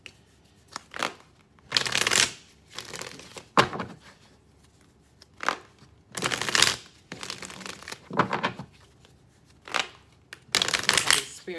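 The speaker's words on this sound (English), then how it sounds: "Shuffle three more times to see if there are any more messages." Repeated bursts of tarot cards being shuffled, crisp riffling rustles in uneven groups with short pauses between, close and clear, no talking.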